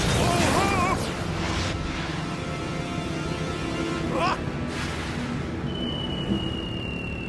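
Many animated rockets launching and exploding in a cartoon battle, a loud burst of booms at the start followed by a steady rumbling roar with whooshing streaks and a faint high whistle near the end, with a voice speaking over it.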